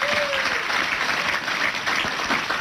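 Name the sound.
audience applause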